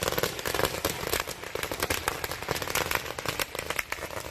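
Firecrackers set off at Wat Chedi Ai Khai temple in Nakhon Si Thammarat burst in a dense, continuous barrage of loud crackling pops, with no voices heard.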